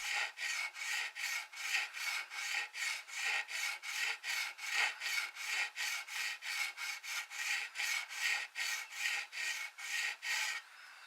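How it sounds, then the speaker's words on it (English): A coarse metal file is worked back and forth along a guitar fret to level it, giving a steady rhythm of about two dozen close, raspy scraping strokes at an even pace with no voices. "This file is very coarse, so it takes off a lot of material in a short period of time."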